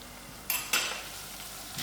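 Masala sizzles in a pot over browned onions, a low steady frying hiss with a couple of brief scraping stirs, close and fairly quiet.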